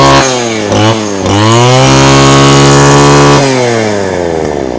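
Two-stroke engine of a second-hand Robin brush cutter with a new throttle handle, running loud and steady, its pitch revving up and settling back down through the clip with no voices.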